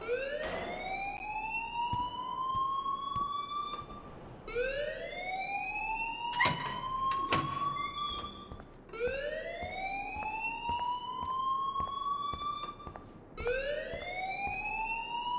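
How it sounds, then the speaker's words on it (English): In Life is Strange, an alarm wails in a loud rising siren tone, repeating about every four to five seconds for four cycles, with a few sharp clanks and a short high beep in the middle. "please turn off that alarm since that's your job."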